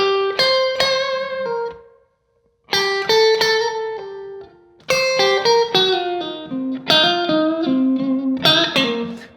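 Electric guitar plays a slow shuffle blues lick as clear, sustained single notes and bends in several phrases with short pauses, some effects or distortion on the tone, no voice over it.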